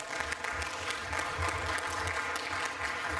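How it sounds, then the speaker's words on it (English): Conference audience clapping at a technology event in Djibouti, an even, moderately loud patter of many hands sustained throughout. "a big applause for CCSI"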